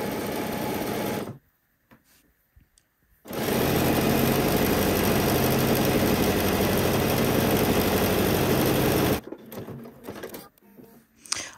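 A sewing machine stitching a knit neckline band with a stretch stitch, whirring loudly and steadily in two long runs separated by a quiet pause, with a few short bursts at the end.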